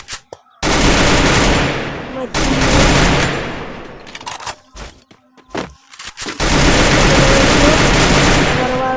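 A SCAR rifle with a double rate-of-fire skin fires in a video game, long loud sustained bursts of rapid automatic gunfire split by a short gap of scattered single shots.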